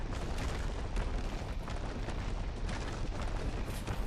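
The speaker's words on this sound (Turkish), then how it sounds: "Şimdi varil patlamasını izliyoruz." A continuous, loud, dense roar of barrel explosions, rumbling and crackling blasts sustained throughout with no pauses.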